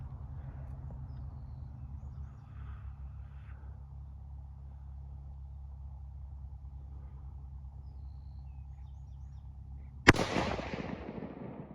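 A single sharp, loud 8mm Mauser rifle shot fired from a bench rest cracks out near the end, its long echoing tail fading over steady low background rumble.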